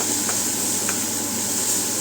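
Garlic sizzles steadily in hot oil in a pan with tomato, bay leaf, onion and chilli, a soft even crackle with a couple of faint stirring scrapes and no talking.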